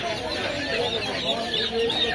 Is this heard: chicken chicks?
yes